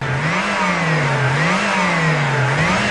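A Volkswagen Corrado G60 engine with its G-Lader supercharger revs hard at full throttle, the pitch swelling and dipping in smooth repeated waves, loud and close with no voices.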